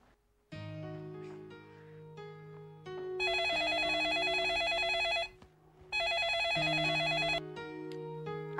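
An indoor telephone rings in two long bursts of bright repeated bell tones over a steady low hum, loud and close with no talk over it.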